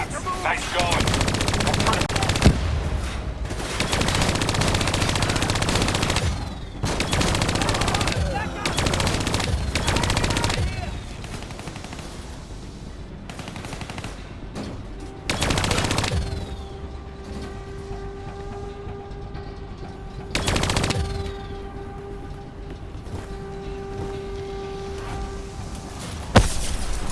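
Video game gunfire as enemies are shot down, long loud bursts of rapid automatic fire alternating with pauses, mechanical clicks and a faint steady electronic hum between volleys.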